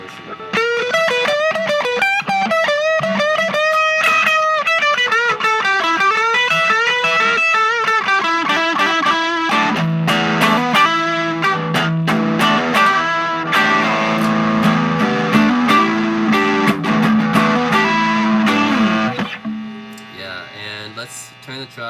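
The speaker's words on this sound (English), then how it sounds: "overdrive turned all the way up adds a lot more power and gain" An electric guitar plays through a Maxon overdrive pedal with the drive turned all the way up, first a melodic lead line and then thick distorted chords that ring out.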